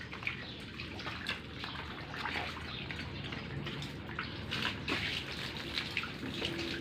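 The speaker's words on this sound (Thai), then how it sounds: "ล้างฝุ่นออกก็พอลูกเพราะว่าคุณแม่ล้างไปหลายรอบแล้ว" Water splashing and spraying steadily over a car during a wash, a continuous broadband hiss with uneven bursts and drips, close and fairly loud, with no talking.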